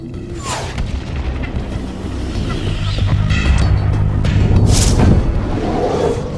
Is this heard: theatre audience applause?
no